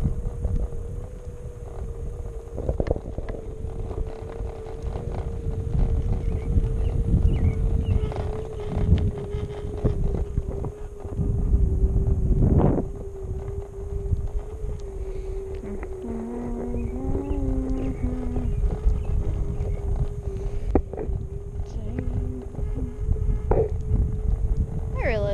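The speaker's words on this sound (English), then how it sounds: "I'm gonna be quiet so you guys can listen to the hoverboard." A hoverboard rolling over outdoor ground gives a steady electric motor hum throughout, with wind rushing across the microphone, occasional bumps and clatter, and brief speech.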